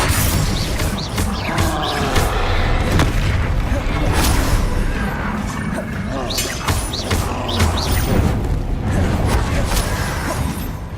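Bombarda and Confringo explosion spells cast in the Hogwarts Legacy video game, a dense, continuous barrage of booming blasts and crashing impacts, loud and close, with scattered voices under the din.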